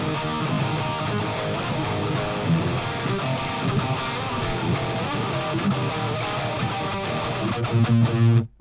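Heavily distorted electric guitar power chords chug in a steady driving rhythm, dense and loud, ending abruptly.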